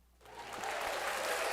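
Applause from a small studio audience on a local morning show, swelling quickly from near silence into steady clapping that keeps going for the rest of the moment, with no voices over it.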